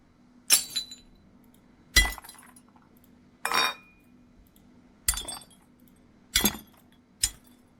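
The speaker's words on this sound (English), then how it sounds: "One that I do remember is called like wine glass shatter, and I remember that sounded very good." A wine glass shatter sound effect repeated six times, each a sharp crash of breaking glass trailing off in tinkling shards, separated by short silences over a faint hum.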